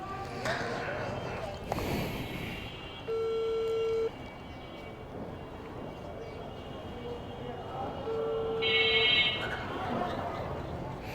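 A phone call's ringing tone sounds from a handset as a parcel delivery rider waits, two steady electronic rings spaced a few seconds apart over street noise and faint background voices.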